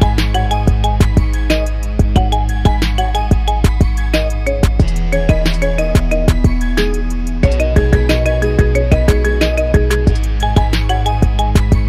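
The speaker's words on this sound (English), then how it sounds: "Get this cool ringtone for your phone now." A marimba remix ringtone plays as a bright, rhythmic run of struck mallet notes over a steady bass line, loud and continuous with a short pause midway.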